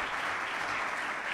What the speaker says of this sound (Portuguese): Você pode aplaudir ao Senhor mais uma vez antes de você sentar.